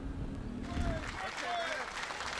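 Firefighters from the FDNY applaud as an injured colleague is wheeled out of St. Barnabas Hospital on a stretcher, steady clapping mixed with crowd noise and a narrator's voice talking over it.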